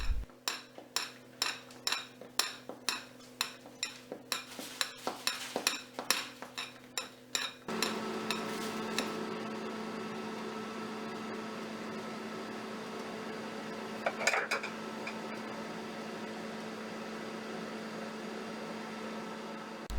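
A home ice cream maker churns mandarin sorbet mixed with whipped egg white: rhythmic mechanical clacks at first, then a steady, close motor whir that runs on alone.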